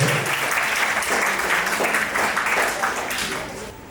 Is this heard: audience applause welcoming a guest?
yes